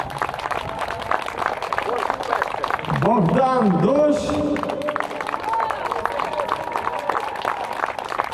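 Audience applause and crowd noise at the close of a Ukrainian patriotic song concert, a steady dense wash of clapping running throughout, with a voice speaking over it midway.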